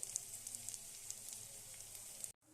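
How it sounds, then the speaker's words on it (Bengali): Sesame pakoras frying in a pan, a soft steady sizzle with faint scattered pops, quiet and without talk, cutting off abruptly near the end. "একই প্রসেসে আমি বাকিগুলোও ভেজে নেব"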